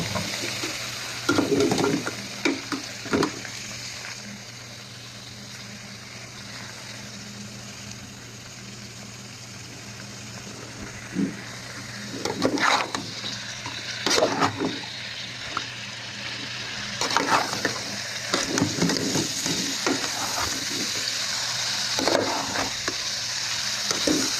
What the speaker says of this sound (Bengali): এখানে দিয়ে দিতেছি তেলের মধ্যে একটু কষাই নেব